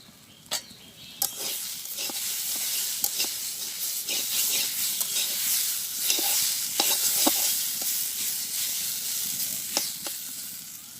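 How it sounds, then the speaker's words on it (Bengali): Onion and garlic dropped into hot oil in a pan, a loud, continuous sizzle and crackle with scattered sharp pops and spoon scrapes, close and steady for the whole stretch. "তো আমি এবারে ঢাকনাটা খুলে পেঁয়াজ রসুনটা দিয়ে দিই।"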